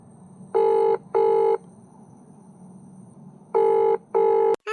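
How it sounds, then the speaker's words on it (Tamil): A telephone rings in two pairs of clear, loud electronic trills separated by a pause, the line tone repeating cleanly over faint background hum. "ஒரு ஃபோனை போட்டு கேட்போம்"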